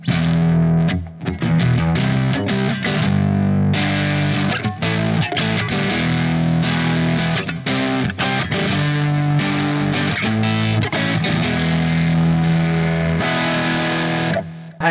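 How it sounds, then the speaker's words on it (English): Distorted electric guitar played through a Positive Grid Spark 40 amp on its plexi amp model, with a humbucker pickup, heard as a loud, continuous riff with short breaks and no talking. "Let's hear that plexi sound."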